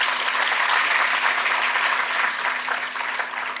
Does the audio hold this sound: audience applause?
yes